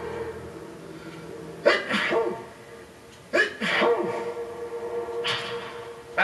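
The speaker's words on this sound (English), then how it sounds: "for this final test, he's sneezing in blue." Three sharp sneezes spaced a couple of seconds apart, close up, over a quiet room background.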